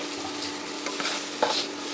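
Vegetables frying in a pan with salt and turmeric, giving a steady soft sizzle with a few light stirring scrapes and one brief clink, close and moderate in level.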